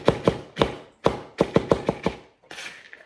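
Pecans are chopped by hand on a board with a knife, giving a quick series of close, crisp taps in uneven bursts, with a short pause before a final scrape-like stroke.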